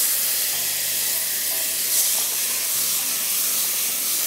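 Moong dal khichri sizzling steadily in a hot pan as tomatoes go in, a constant broad hiss of frying and steam with no talk over it.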